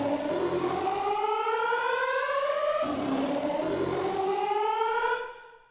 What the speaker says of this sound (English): create this interesting sequence that is like an air raid siren